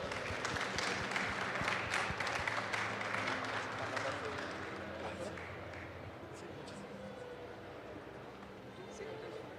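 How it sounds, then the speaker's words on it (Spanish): Audience applause at a medical lecture event on headache imaging, a dense clapping wash that is loudest at first and then slowly tapers, with voices mixed in underneath. "Si me apoyan a darle un fuerte aplauso"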